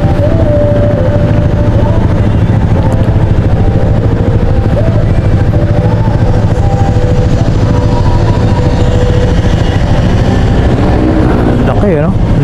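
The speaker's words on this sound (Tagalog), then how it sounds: "Laki ng aeroplano. Oh, Cathay Pacific." A large Cathay Pacific airliner passes over heavy traffic on the C5 road, a loud, constant roaring rumble with voices talking over it.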